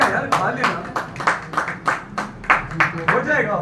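Audience clapping at an award ceremony for Hyderabad artists, a steady run of claps over a murmur of voices and talk.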